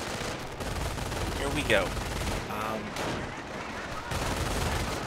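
MG42 machine gun firing in the video game Company of Heroes, rapid sustained bursts rattling throughout at moderate distance, with someone talking over them.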